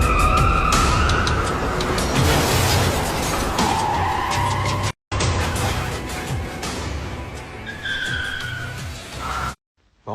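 Car skidding and crashing as it enters a tunnel, a long loud screech of tyres with harsh scraping and shifting tones, broken by brief cuts of silence and with no talking.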